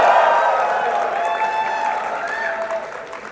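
Applause and some cheering from a crowd at a Redmi 12 series smartphone launch event, a loud wash of clapping at the start that gradually eases over a few seconds.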